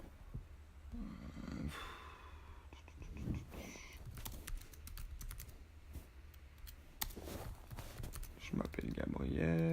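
Someone types a title on a computer keyboard in Pages on a Mac, producing quiet, quick clusters of key clicks in irregular bursts, with soft speech and breathing heard underneath.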